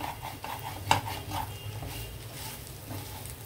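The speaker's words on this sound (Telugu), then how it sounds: "మీరు హైలో పెట్టినప్పుడు దగ్గరుండి కలపాలి, లేదంటే మళ్ళీ అడుగంటేస్తుంది" Chicken fry is stirred in a pan over high heat, with faint scraping and clinking from the spoon against the pan and one sharp knock. A soft background hiss runs throughout, with no talking.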